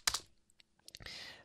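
Quick keystrokes on a computer keyboard tap out a command in a PowerShell window, a brief burst of close, crisp clicks followed by a scattered few, with soft talk at the end.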